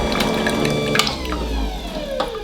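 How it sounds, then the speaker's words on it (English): A Gryphon glass grinder runs with its newly replaced water pump, giving a continuous wet whirring hum with splashing water and faint ticks, close and steady. "I won't keep talking over the sound of this grinder, so let's wrap this video up."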